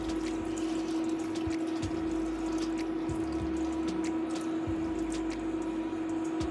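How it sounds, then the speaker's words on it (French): Red wine poured over beef bourguignon in a pot, a soft steady liquid trickle under a constant low hum, faint and continuous with a few small splashes. "je vais venir recouvrir de vin rouge"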